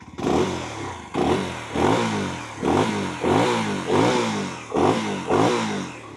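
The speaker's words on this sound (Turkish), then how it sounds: "klasik 250 cc motosikletler gibi bir sesi var" A UM Renegade Freedom 250cc motorcycle engine revs repeatedly, about seven sharp throttle blips in a steady rhythm, loud and close, each rising then falling back.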